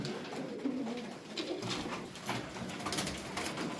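Several pigeons of the Sabuni tumbler breed, a family of parents and young, coo in low soft repeated calls close by, with steady faint background noise and no talk.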